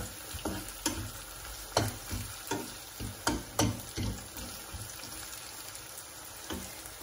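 Onions frying golden in a pan, a steady low sizzle punctuated by irregular spoon or spatula knocks and scrapes as they are stirred, close by.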